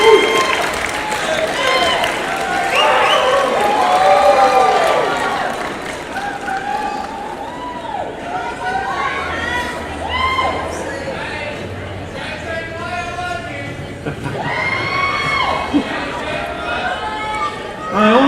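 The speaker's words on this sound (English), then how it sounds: "give them a round of applause" At a college graduation ceremony, graduates applaud their families in a big hall, with a long, steady wash of clapping mixed with cheers, whoops and crowd chatter throughout.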